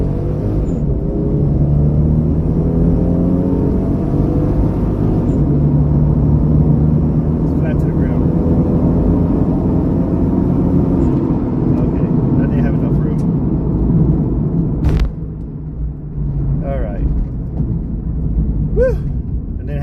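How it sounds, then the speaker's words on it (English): A twin-turbo Toyota MK4 Supra at full throttle with overdrive off, its engine producing a loud, sustained rising drone, with a brief dip near the end as it shifts. "I'm just mashing the gas, nothing fancy."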